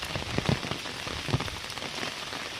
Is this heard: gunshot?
no